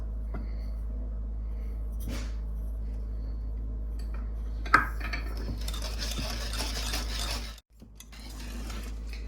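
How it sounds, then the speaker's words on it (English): Flour being stirred into brownie batter with eggs, soft scraping and sloshing strokes of a utensil against a bowl, intermittent at first then busier, over a low steady hum. "I'm getting that all mixed in there with my eggs and my other stuff"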